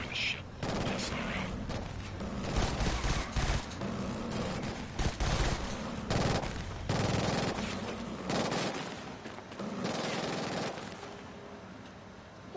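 Dense Killzone Shadow Fall gunfire, rapid automatic bursts and single shots packed closely together for most of the stretch, fading slightly near the end with occasional voices.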